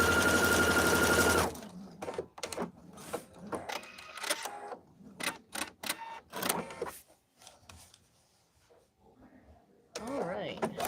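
Sewing machine quilting a zippered project bag, starting with a loud steady whirring run that stops abruptly, followed by quieter intermittent clicks and handling sounds with pauses, then the motor starts up again at the end.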